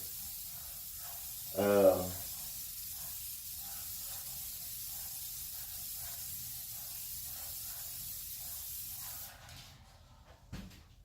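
An airbrush sprays paint onto a lawnmower with a steady, soft hiss that runs for several seconds, with one brief louder burst early on, before cutting off near the end.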